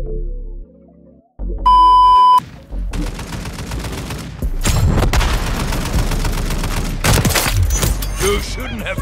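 Dense gunfire in Call of Duty: Modern Warfare 3 Warzone, with rapid bursts and sharp shots cracking over a rumbling battle bed. A brief tone sounds first, then near-continuous loud firing with heavier booms partway through.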